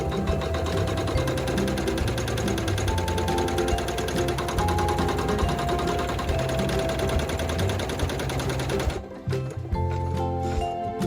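An embroidery machine stitches a faux leather applique onto a beanie, a loud rapid mechanical needle chatter running steadily, then stopping near the end with a few scattered clicks and knocks.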